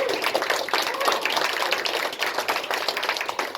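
A live show audience gives a round of applause, a dense and steady patter of many hands clapping that stays loud throughout. Faint voices sit beneath it.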